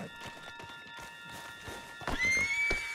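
A horse in the video game Red Dead Redemption 2 clip-clops along in a steady rhythm of hooves, then gives a loud, close whinny near the end, with faint voices in the background.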